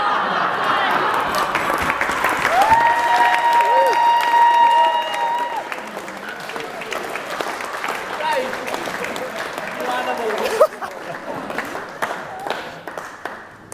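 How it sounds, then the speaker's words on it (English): Wedding guests at The Pumping House burst into sustained applause and cheering for the best man, a dense crowd clapping that swells, then gradually thins while voices and a whistle carry over it. "if we could have a big, encouraging cheer for everyone's friend, but my best friend and best man"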